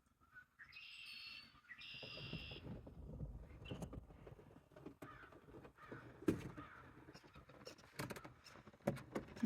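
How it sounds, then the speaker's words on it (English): Crows caw repeatedly at some distance on a late-February snowy morning, the calls coming in irregular bursts and separate cries over a soft, steady outdoor background. "I hear our dear crow friends."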